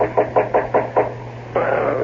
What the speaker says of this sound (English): someone knocked on my door